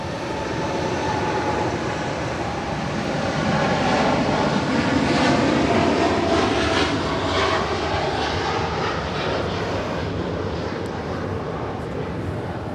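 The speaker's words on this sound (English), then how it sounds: "That was Cargo Lux 79 Zulu departing to Luxembourg on a 747-8 freighter." A Boeing 747-8 freighter departs Los Angeles International Airport bound for Luxembourg, its four engines producing a deep, steady roar that swells in the middle and then eases slightly as it climbs away.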